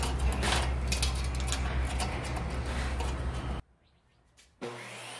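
A power saw ripping 1x2 scrap wood into narrow strips, a loud sustained whine and cutting roar that stops abruptly, followed by a brief quiet pause before the motor starts up again.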